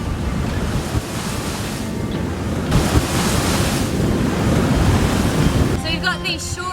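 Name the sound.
short period wind swell ocean waves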